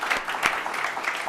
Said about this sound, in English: can we give our judges a round of applause for their time?